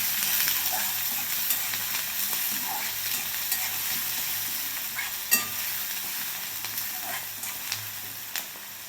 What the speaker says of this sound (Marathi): कांदा चांगला भाजून घ्यायचा आहे बघा.